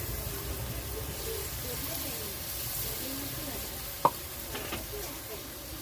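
Onion and garlic paste frying in a pan, a steady sizzle running throughout with a single sharp clink partway through.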